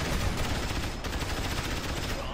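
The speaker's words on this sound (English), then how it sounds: "The guard tower got just ready just in time to kill the quad cannons and the infantry" A guard tower in Rise of the Reds fires on quad cannons and infantry, giving a dense, loud burst of rapid gunfire and explosions without a break.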